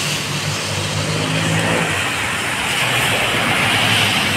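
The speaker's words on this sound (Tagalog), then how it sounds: "Ayan, mga sasakyan." Cars and trucks pass on a road along the Esplanade by the Pasig River during a storm, a steady broad roar of traffic with engine rumble rising and falling, fairly close and continuous, with no talking.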